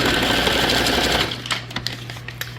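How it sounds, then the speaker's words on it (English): A sewing machine stitches through paper junk journal tags, its fast, steady mechanical whir running loud and close before settling into lighter, ticking stitches with no talking. "Now I'm just going to sew on the rest"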